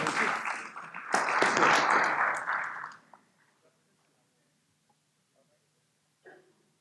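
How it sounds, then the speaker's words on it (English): Applause at a business summit in Ghana as a group chairman walks up, a burst of clapping for about three seconds that cuts off into near silence, with a faint brief sound near the end. "A round of applause as he comes."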